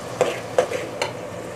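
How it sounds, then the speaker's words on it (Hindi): Onions fry in a pan as they are turned over, three distinct scraping stirs at steady intervals over a faint background sizzle, close by and alone. "तो अब इसको ज़रा उल्ट पुलट कर लेते हैं"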